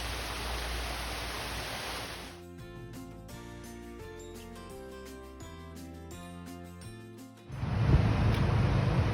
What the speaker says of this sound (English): I'm walking along the Little Pigeon Creek. It's got little cascading waterfalls on it.